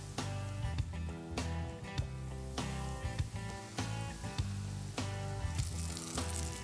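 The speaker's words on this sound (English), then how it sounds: "one by one into the oil" Flour-coated oysters sizzle steadily as they fry in hot canola oil, a constant crackle running beneath music with a strong beat.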